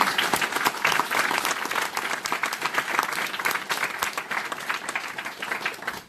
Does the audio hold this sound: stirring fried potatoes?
no